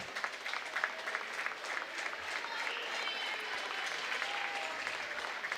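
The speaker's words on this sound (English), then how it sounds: "You hear a round of applause out there." Steady crowd applause fills a basketball gym during a girls' high school game, broad and continuous for several seconds with cheering mixed in and no clear talk.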